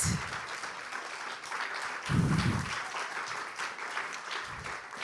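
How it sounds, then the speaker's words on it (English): A Sunday gathering congregation gives Reverend Sarah a round of applause, steady broadband clapping lasting the whole stretch with a few louder low thumps, moderately distant in the room. "I think we need to give a hand of applause to Reverend Sarah here"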